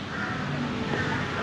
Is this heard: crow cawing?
yes